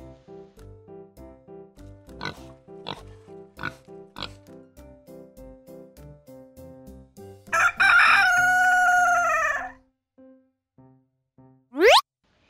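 A rooster crows once, loud and drawn out, over a bouncy repeating music track, with a short rising cartoon-like sound effect near the end.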